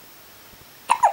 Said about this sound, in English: Have you got the hiccups?